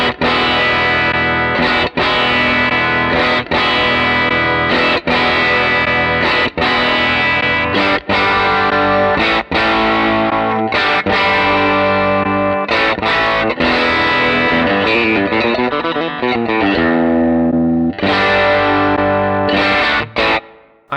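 Electric guitar played through a fuzz pedal with a rolled-off tone, heard as a long run of thick, fuzzy chords and riffs, each attack clipped and choppy, with short gaps between phrases. The guitar plays loud and close, without any talk.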